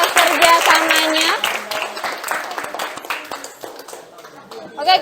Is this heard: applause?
yes